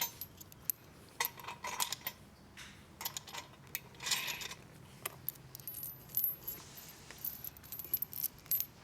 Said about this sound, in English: 1 washer on the inside, 1 washer on the outside, and then finger tighten the nuts.